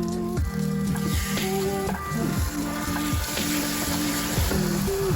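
Eggs are whisked quickly into a hot mixture in a bowl, with rhythmic clinking and sloshing strokes repeating steadily over a wet, sizzling background and no voices.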